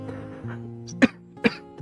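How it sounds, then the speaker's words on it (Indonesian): Two sharp, loud coughs about half a second apart, close to the mic, over a faint steady hum with no talk. "Batuk-batuknya."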